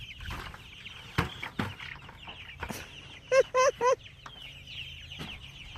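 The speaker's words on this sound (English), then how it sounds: "Chicken herding." Chickens on a small farm cluck and squawk while being herded, with scattered calls and a quick burst of three loud squawks near the middle, close by and clear over faint background noise.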